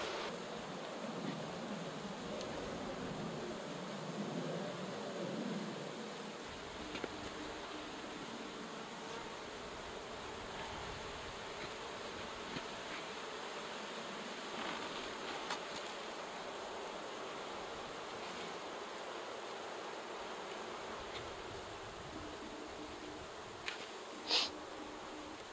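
Honey bees buzz around an open hive in a faint, steady, airy drone that holds for the whole stretch, with a few brief louder passes near the end.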